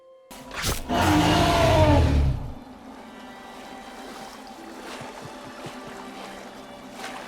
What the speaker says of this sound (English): including a ride on some sea monster boat that becomes an on-rails combat arena